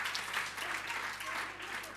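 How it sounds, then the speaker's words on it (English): Crowd clapping fills the air continuously at a community campaign launch event, a dense, steady wash of applause with no gaps, moderately near and even in loudness. "Can we please give a big round of applause to PHS?"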